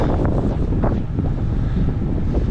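Strong, unpleasant headwind buffets the microphone during a ride toward Cherkasy, a loud continuous roar with gusty surges and no speech.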